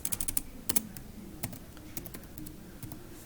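Quick bursts of keys tapped on a computer keyboard while entering a variable name in PLC programming software, crisp clicks in irregular clusters, close and fairly quiet, no voices.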